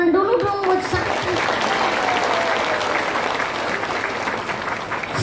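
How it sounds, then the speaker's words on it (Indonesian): A crowd at a religious gathering in a village claps for pesantren students, a loud sustained round of applause that swells at once and holds steady, with a voice speaking briefly at the start. "tepuk tangan dulu dong buat santri"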